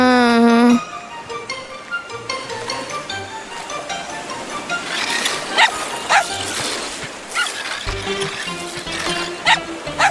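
An animated cartoon dog barks and yips in short bursts over a busy musical background, with an upward whistle-like tone at the start and sharper bark accents later.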